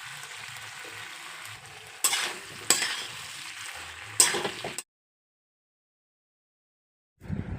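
Vegetables fry in a pan with ginger and green chilli paste and Kashmiri chilli powder, a steady sizzle broken by several sharp scraping stirs, then silence before a brief low rumble returns near the end.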